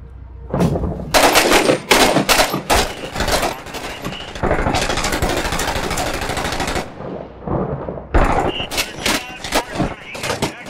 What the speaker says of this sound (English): Machine gun holding rooftop above the tank.